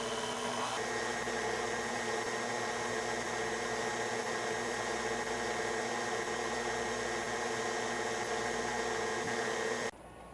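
A kitchen blender set to stir runs at a constant loud whirring drone while making freshly harvested zucchini zoodles, then cuts off abruptly just before the end, leaving a quieter hum.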